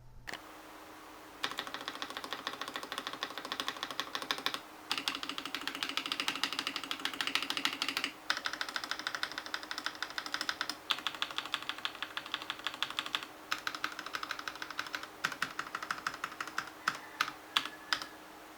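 Typing on a Marvo KG972W gasket-mounted keyboard with plate-mounted stabilizers, a long close run of quick, crisp key clacks in steady bursts with brief pauses, fairly quiet and alone with no voices.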